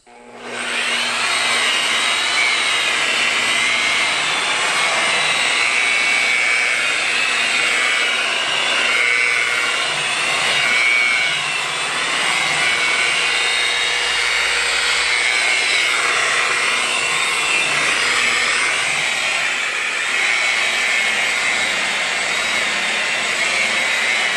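An orbital polisher pad works over the decades-old paint of a Cutlass stored for 33 years, a loud, continuous whirring drone that holds steady, close up and alone, for the whole stretch.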